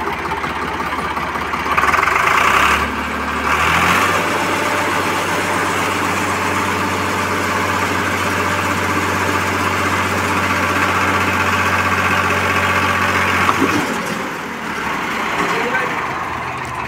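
A Swaraj 735 FE tractor engine runs close by with a loud, steady diesel drone, its pitch shifting slightly near the start and again toward the end, while voices speak briefly over it.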